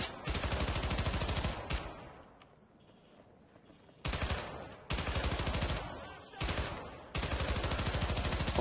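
Rapid automatic gunfire from the video game Syndicate rattles out in long, loud bursts, broken by a quieter pause in the middle and then resuming in several sustained volleys.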